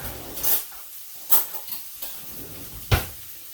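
Fork stirring a tablespoon of tomato puree into stock in a caravan kitchen: a few sharp metallic clinks and scrapes against a bowl, close and fairly quiet, with separate taps spaced irregularly.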